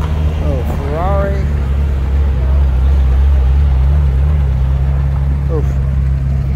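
A small Ferrari drives onto the show field at the 2021 AACA Hershey car show, its engine a steady low drone close by while nearby voices chatter over it.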